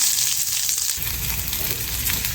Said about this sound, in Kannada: ಸ್ವಲ್ಪ ಎಣ್ಣೆ ಹಾಕ್ಕೊಂಡಿದ್ದೀನಿ ಬಾಣಲಿಗೆ. ಇವಾಗ ಈರುಳ್ಳಿನ ಹಾಕೋತಾ ಇದ್ದೀನಿ.